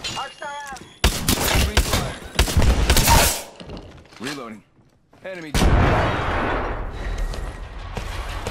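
Gunfire in the battle game Apex Legends, heavy bursts of shots and booming blasts in clusters, with a brief lull before another loud rumbling volley, mixed with voiced callouts.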